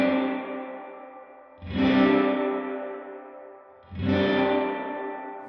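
Guitar through a Line 6 Helix Dynamic Hall reverb with high cut, two loud strummed chords each ringing out into a long, dark, smooth reverb tail, with no talking.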